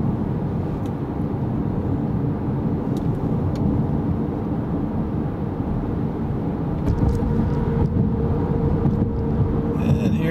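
A 2016 Hyundai Sonata Hybrid cruising at about 40 mph through a highway corkscrew, giving a steady, loud broadband road and engine rumble with wind and tire noise throughout.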